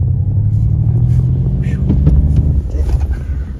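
At an indoor auto show, a car in sport mode with its propulsion sound setting switched on gives a deep, rumbling surge as it accelerates. The sound is loud and continuous with a hall echo, and faint voices carry underneath.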